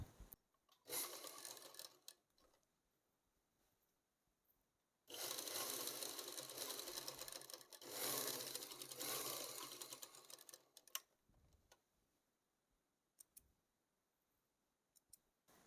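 A sewing machine stitches tucks into a churidar top, running in two bursts of steady whirring with a short pause and light clicks between them, close and loud with no talk.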